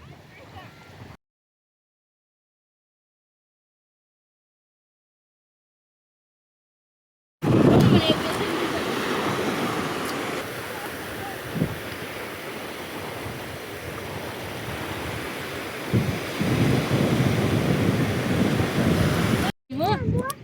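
Sea waves and wind roar at the shore by the Batheshwar Mahadev temple. A steady broadband rush with gusts buffeting the microphone follows a few seconds of near silence.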